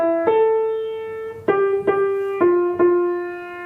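Piano playing a short phrase of O Tannenbaum, five clear notes struck one after another at a gentle pace, each ringing on, close and alone.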